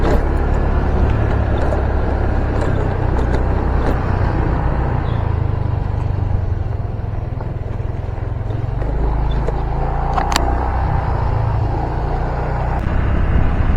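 Motorcycle riding over a bumpy road, with steady, loud engine drone and wind rumble throughout and occasional rattles and knocks from the rough surface.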